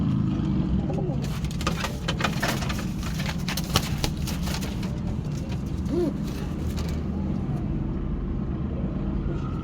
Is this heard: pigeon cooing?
yes